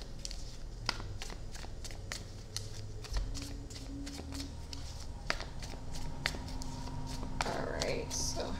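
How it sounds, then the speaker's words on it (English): Reading cards are shuffled close to the microphone in a series of crisp riffling and tapping bursts, with quiet speech drifting in beneath and a brief soft rustle near the end. "while I'm shuffling these cards"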